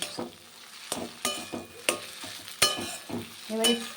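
Potato filling for chilli chop being lightly fried and stirred in a pan, with repeated scraping strokes of a spatula over a soft sizzle, close and fairly quiet.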